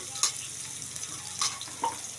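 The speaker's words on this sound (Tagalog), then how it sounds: "Magigisa muna ako ng sibuyas." Onions fry in a pan with a soft, steady sizzle, punctuated by a few brief scraping stir sounds.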